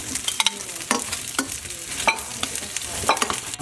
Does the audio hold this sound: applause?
no